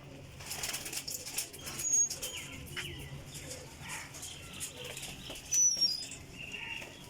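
Pigeons taking flight over an outdoor loft, wings flapping in bursts with two louder flurries of wingbeats, scattered chirps and faint coos over a steady low background hum.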